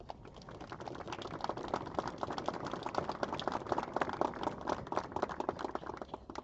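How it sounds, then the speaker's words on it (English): Outdoor applause from a crowd at a commemoration by a pier, a dense crackle of many hands clapping steadily at moderate distance for several seconds. "I would like you to show your appreciation and give them a round of applause."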